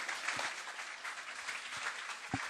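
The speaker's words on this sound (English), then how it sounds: "great to see the crowd here getting behind final competitor coming over the line" A crowd applauds an athlete crossing the finish line at the 53rd Australian Junior Athletics Championships at Sydney Olympic Park, a steady, fairly distant wash of clapping that continues throughout.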